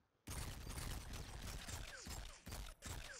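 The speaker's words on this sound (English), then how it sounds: "I don't know what it is about a silencer that makes the gun just sound bulky" Suppressed gunfire in the shooter game Call of Duty: Infinite Warfare, a dense run of loud muffled shots with mechanical clatter, pausing briefly near the end, with no talk.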